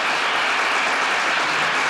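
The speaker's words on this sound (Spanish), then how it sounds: "¡Un aplauso para esta chica!" A lecture audience applauds a volunteer coming up on stage, a dense, steady burst of clapping from many hands that fills the whole moment without voices.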